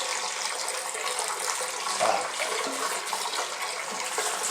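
Water running out of a pipe during plumbing work, a steady broadband rush of flow that holds constant throughout, close and moderately loud with no talk.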